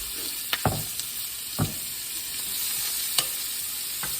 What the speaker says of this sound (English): we're just putting these onions in here, and we're gonna let these get soft